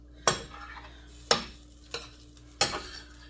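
A utensil stirs crispy mushrooms into cooked pasta, making four sharp clinks and scrapes spaced about a second apart over a quiet background.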